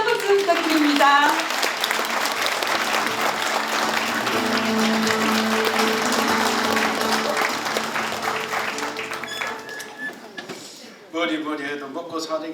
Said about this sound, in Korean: 여러분 다시 한번 힘찬 박수 부탁드립니다.